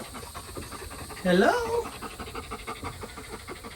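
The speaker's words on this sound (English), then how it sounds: "She's going to pant like that regardless because breastfeeding makes a dog pant." A nursing livestock guardian dog with day-old puppies pants in quick, steady, breathy rhythm close by, while a voice briefly speaks a greeting.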